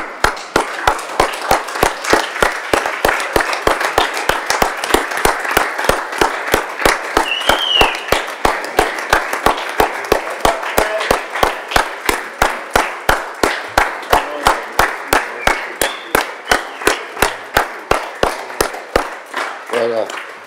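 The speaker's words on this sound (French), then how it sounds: "je vous demande de vous lever et de l'applaudir." A council meeting audience stands and applauds, a loud, sustained round of dense clapping lasting about twenty seconds, with a few faint voices and cheers mixed in.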